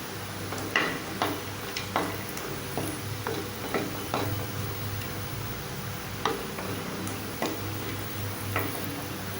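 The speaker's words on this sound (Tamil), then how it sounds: "கொஞ்சமாக ஆயில் ஊற்றிக்கலாம். இந்த பெருங்காயத்தை வறுத்துக்கலாம்." Asafoetida fries in a little oil in a clay pot over a gas flame, giving a soft, low sizzle under a scattered series of light ticks and taps, with a faint steady hum throughout and no talking.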